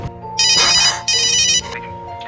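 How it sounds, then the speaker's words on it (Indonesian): A phone rings loudly in two electronic bursts with a brief pause between them, bright and close, followed by a quieter tail. "tiba-tiba telepon berdering"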